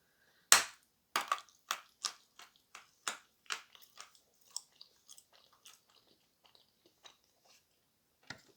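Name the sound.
biting and chewing crunchy edible clay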